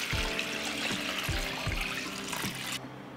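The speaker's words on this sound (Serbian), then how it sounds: "Pa ću zatim naliti vode." Water runs steadily into a pot holding glass jars set on a cloth at the bottom, a continuous close splashing pour that stops abruptly near the end.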